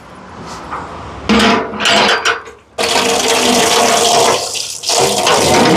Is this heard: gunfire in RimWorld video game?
no